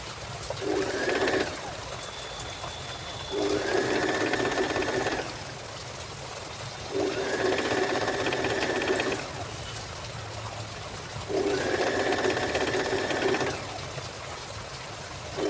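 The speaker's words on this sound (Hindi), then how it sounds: "ऐसे रखेंगे और स्टिचिंग करेंगे।" A sewing machine stitches a sleeve in four separate bursts of rapid mechanical clatter, each a couple of seconds long, with short quiet pauses between them, close and fairly loud.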